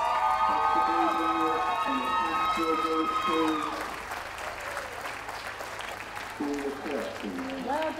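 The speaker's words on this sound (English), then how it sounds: "A round of applause for those leaving the ring." Crowd applause and cheering around a championship dog show ring, sustained and loud at first, easing midway, then swelling again, with voices and a tonal whistle-like sound over it.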